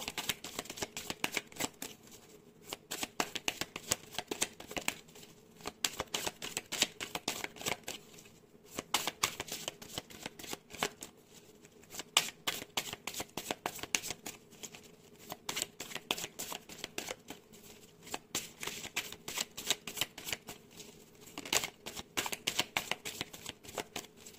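A tarot card deck is shuffled by hand nearby in quick, repeated riffling bursts that keep a steady rhythm with short pauses between them.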